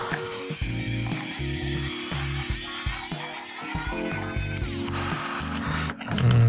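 An electric screwdriver backs out self-tapping screws from a battery box, whirring steadily with a ratcheting, grinding texture and small shifts in pitch, close and continuous throughout.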